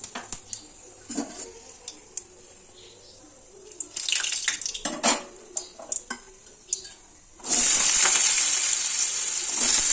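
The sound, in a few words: panch phoron and dried chillies sizzling in hot oil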